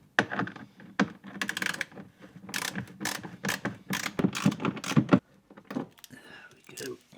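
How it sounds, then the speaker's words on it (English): T25 Torx bolts being undone in the spare wheel well of a Mk2 Skoda Fabia, quick ratcheting clicks and metallic rattles in rapid bursts, close up. "let's get these bolts undone. These are T25 torx"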